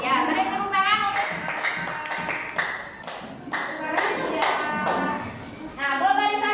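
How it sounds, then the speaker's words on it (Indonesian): Classroom of primary school pupils clapping together after a group's answer, uneven bursts of hand claps mixed with children's voices talking and calling out throughout. "beri tepuk tangan untuk."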